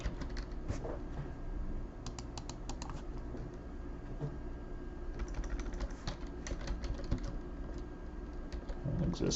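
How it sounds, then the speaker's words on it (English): Quick bursts of computer keyboard typing during a software setup walkthrough, a run of light, close clicks with brief pauses over a steady low background hum. "you can just type in the site"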